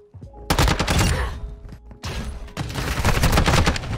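Rapid automatic gunfire in a video game, with loud, dense bursts of shots that briefly pause and then resume, close and continuous with no talk.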